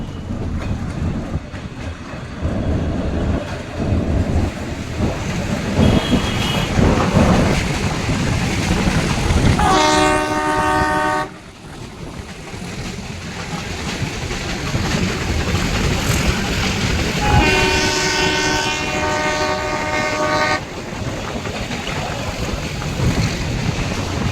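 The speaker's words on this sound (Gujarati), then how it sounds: "આપણી ટ્રેન જુનાગઢ રેલવે સ્ટેશનની બહાર નીકળી ગઈ છે" A meter-gauge train pulls out of Junagadh railway station, wheels clattering in a steady rhythm over the rails, with two bursts of a loud tonal horn standing out above the rolling noise.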